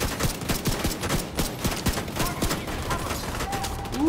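Rapid gunfire hitting a player's shield in The Division 2, a steady stream of close, loud shots in quick rhythm with mechanical clatter underneath.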